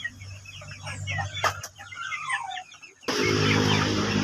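A lame chicken that cannot stand well clucks in a series of close, moderately loud calls, then a burst of broader noisy rustling takes over near the end.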